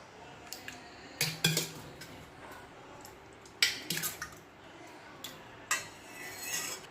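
Curd being whisked in a large metal bowl, with scattered clinks and scrapes of utensil against the bowl and soft wet squishing, several sharper knocks standing out, close and fairly quiet.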